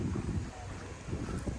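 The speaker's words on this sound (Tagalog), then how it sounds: "And sobrang hangin." Strong wind gusting across a hilltop property with a mountain view in Antipolo, a rough buffeting rumble against the microphone.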